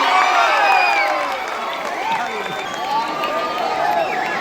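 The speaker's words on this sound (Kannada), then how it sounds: "ಎಲ್ಲರೂ ಶಾಂತತೆಯಿಂದ ಆದಿವಾಸಿಗಳ ಕೂಗು ಚಪ್ಪಾಳೆ ಮೂಲಕ ಅವರ ಸ್ವಾಗತಿಸಬೇಕಂತ ಕೇಳ್ಕೊತೀನಿ" A crowd at a World Adivasi Day gathering cheers, shouts and claps to welcome the Adivasis. The noisy, raucous roar is loudest at the start, then settles to a steady din of many voices with applause mixed in.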